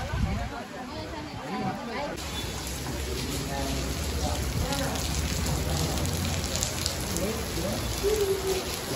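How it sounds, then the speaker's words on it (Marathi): Heavy rain pours steadily at the Vetoba temple in Vengurla, a continuous dense hiss with scattered drips and patters close by, faint voices murmuring underneath. "आज पावसाने तो वाट लावलेली आहे पूर्ण."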